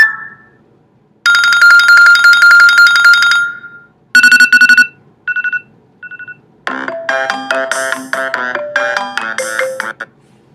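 iOS 7.1.1 timer alert tone Signal previewed on an iPhone, loud bright electronic chimes in several bursts: a short beep, a long pulsing ring, clipped fragments, then a rapid melodic sequence of tones.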